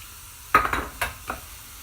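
Onion and garlic go into hot sunflower oil, setting off a sudden sizzle with a few quick scraping stirs that fade over a couple of seconds.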